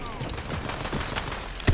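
Rapid gunfire from the video game Tiny Tina's Wonderlands crackles in a dense, continuous mix of shots and effects, ending on a louder low thump.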